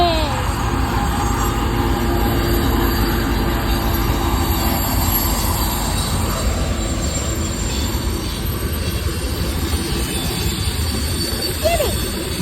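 A train rolls past close by on railway tracks with continuous heavy wheel and car rumble, thin metallic wheel squeals rising at moments over the steady roar.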